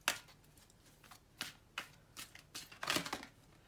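Energy Oracle cards are shuffled by hand in close, quiet bursts: a handful of brief papery riffles and slides separated by short pauses, the last flurry the loudest, with no speech.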